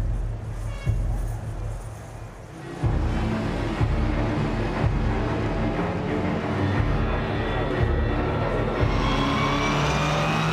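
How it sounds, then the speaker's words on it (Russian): WTCC touring race cars accelerating off the start at the Hungaroring, a loud, dense engine roar building after a quieter moment, with rising whines as the pack pulls away and commentary running over it. "Иван Миллер отлично принял старт с полупозиции."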